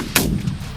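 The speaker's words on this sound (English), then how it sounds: "Постріл!" A single mortar or gunshot firing outdoors, one sharp loud crack followed by a brief low rumbling tail.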